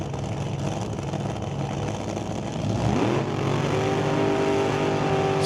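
A drag race car at a Jr Street race starts at a steady, rumbling idle, then its engine revs sharply upward and holds a loud, rising tone, close by with no talking.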